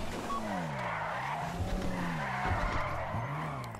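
Tires squeal and skid through a car drift during a video game heist, a loud continuous screech with engine drone running across the whole moment.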